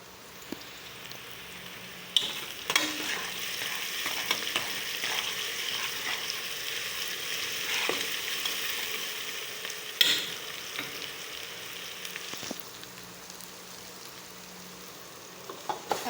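Onions sizzle in hot oil as ginger garlic paste goes in, a steady crackling hiss broken by sharp scrapes and clanks of a spoon stirring against the pot.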